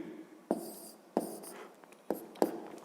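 Pen or chalk strokes write numbers during a fifth-grade math lesson, four short distinct scratching bursts spaced unevenly over a quiet background, fairly close, with no voice.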